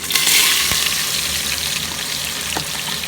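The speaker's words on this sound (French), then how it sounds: "Donc là, je vais ajouter mes oignons." Onions dropped into a hot pan with sweet potatoes for a beef meatball pasta sauce, frying in a loud, dense crackling sizzle with a few brief stirring clacks.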